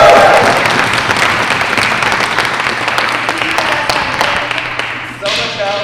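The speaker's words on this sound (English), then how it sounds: "so let's cheer loud enough for them" Indoor audience at a 2020 curling bonspiel clapping and cheering steadily for the volunteers, a dense wash of applause throughout with a voice briefly heard over it.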